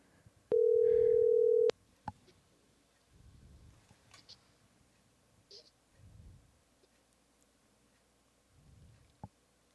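A telephone call going out, with a steady dial tone lasting about a second followed by sparse clicks and faint low ringing pulses repeating at regular intervals, close and otherwise quiet.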